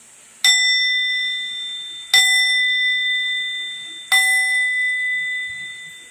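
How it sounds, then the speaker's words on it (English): A prayer bell for mantra chanting struck three times at even intervals of about two seconds, each bright metallic ding ringing out and slowly decaying, close and clear with no talking. "we have our bell. Okay, right here. Okay, so I'm gonna ring it 3 times."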